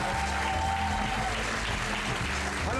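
A television cooking-show studio audience applauds guests, with steady, dense clapping at moderate volume holding evenly throughout, no voices on top.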